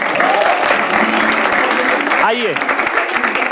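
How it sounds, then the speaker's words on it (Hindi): Studio audience applause on a Hindi reaction show, a steady dense wash of clapping throughout with a voice speaking over it near the end. "तालियां इसके लिए।"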